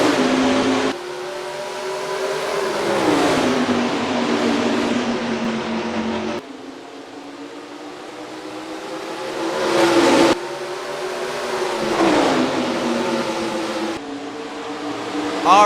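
Stock car engines roar around the short track at Richmond in NASCAR Racing 2003, a steady loud drone with pitch sweeping up and down through the laps as cars accelerate and lift.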